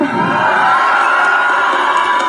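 At a Duterte political rally in the Philippines, a large crowd shouts and cheers. It makes a loud, sustained roar of many voices that holds steady throughout, with scattered higher shouts and whoops.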